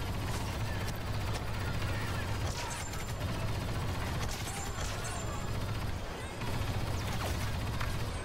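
A heavy's minigun fires in sustained bursts during a Star Wars Battlefront 2 match, dense rattling gunfire mixed with mechanical whirring and other battle noise, running loud and nearly continuous throughout.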